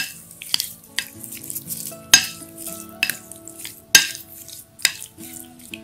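Marinated beef for shaking beef (bò lúc lắc) being mixed with sugar and soy sauce in a bowl, the spoon giving a series of sharp clinks and scrapes with ringing pauses between.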